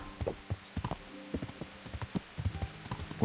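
Horse hooves trotting in the video game Kingdom Come: Deliverance, a steady clip-clop rhythm of regular, fairly close footfalls alone with no talk.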